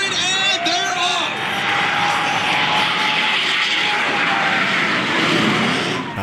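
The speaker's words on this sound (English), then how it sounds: "The Pitts Special is going to race a jet car down the runway." A Pitts Special aerobatic biplane racing a jet car down the runway at an air show. A loud, sustained engine roar fills the air, with shifting tones as the two pass, and an announcer talks over it.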